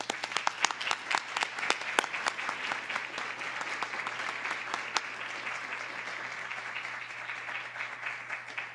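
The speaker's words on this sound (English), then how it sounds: "So we applaud you." School board meeting audience applauding, a burst of sharp distinct claps at the start that settles into steady, moderately distant clapping from a room of people.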